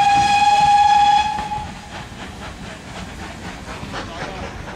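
A steam locomotive at the Watercress Line spring steam gala gives a loud whistle blast for about a second, then a steady run of rhythmic chuffs continues at a moderate distance, with voices faintly present.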